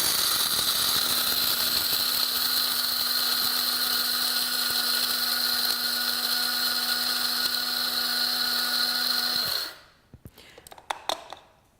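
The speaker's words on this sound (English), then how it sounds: "then we're going to grind away" An electric coffee grinder grinding coffee beans gives off a loud, steady whirring drone for about nine and a half seconds. It then cuts off abruptly, leaving a few faint clicks and rattles.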